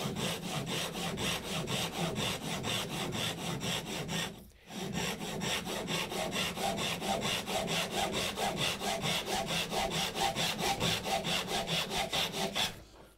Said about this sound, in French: je viens descendre la scie avec l'aide de la pente du gabarit